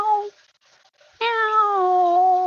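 A cat gives a short meow, falls quiet for a moment, then lets out a longer, drawn-out meow, loud and close with no talking.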